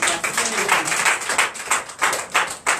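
At a Sunday worship service in Benin, a congregation claps in a loud, close, steady rhythm, with bursts of applause repeating throughout.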